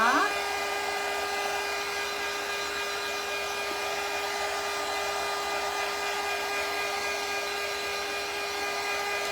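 A hair dryer starts up and then runs at a steady, loud, continuous whine close by while it dries a Nutcracker-themed craft project.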